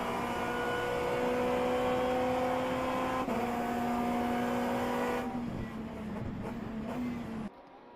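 Race cars including a Porsche lapping in a racing video game endurance event, a steady droning engine whine with a sustained tone that shifts pitch, then drops away as the sound fades near the end.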